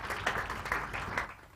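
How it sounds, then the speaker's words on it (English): Audience applause at a scientific merit awards ceremony, a short burst of many hands clapping, moderately distant and fading slightly toward the end. "Let's give her a round of applause"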